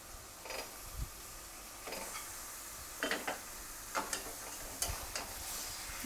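Chicken pieces sizzle and fry in a pan of cooked-down masala for chicken curry, with a spoon stirring and scraping the pot in repeated bursts over a steady background hiss.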